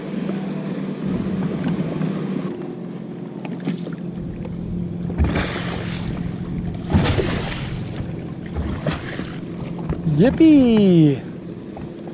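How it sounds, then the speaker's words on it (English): Party barges and pleasure boats passing near a bass fishing boat on a busy lake, a steady motor drone with water sloshing and splashing against the hull, while a person cheers briefly. "here comes the boats. Here comes the party barges."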